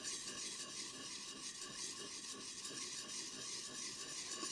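Hand plane blade rubbed in small circles on a 1000 grit sharpening stone, a faint, continuous gritty scraping with no pauses or talk.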